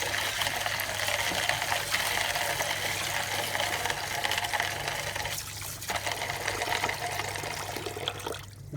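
Seeds for bird sprouts being washed in water, a steady broad rush of running and splashing water that holds for nearly nine seconds, fairly close with no talk.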